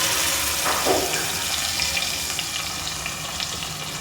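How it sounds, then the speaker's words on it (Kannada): Tomatoes for rasam frying in a little oil in a pan, a continuous crackling sizzle with a brief watery stir near the start, close and steady without talk. "ಇವಾಗ ಇದಿಷ್ಟು ಸ್ವಲ್ಪ ಎಣ್ಣೆಲೆ ಫ್ರೈ ಮಾಡಬೇಕು"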